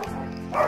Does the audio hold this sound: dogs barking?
yes